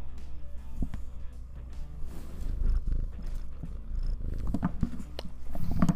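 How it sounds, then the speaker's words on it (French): A cat purring close by, a low rhythmic rumble with soft rustling and a few small clicks and movements around it. "Elle ronronne. Je sais pas si vous pouvez l'entendre."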